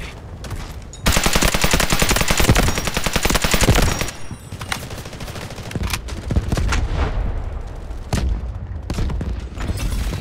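Loud sustained barrage of gunfire and heavy artillery in Delta Force Hawk Ops, a dense rapid volley for several seconds that settles into scattered shots and distant booms.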